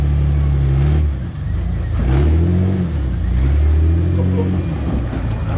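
An off-road rig's engine revs while winching on Colorado's Patriot Trail, a deep, close motor drone that surges and eases in waves, briefly dipping before climbing again.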